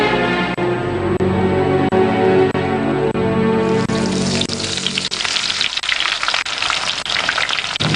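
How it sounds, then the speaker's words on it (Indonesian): Onions sizzle in a frying pan late at night in a home kitchen. A steady, close hiss of frying builds and fills the second half, following a quieter, tonal stretch at the start. "Malah masih goreng bawang."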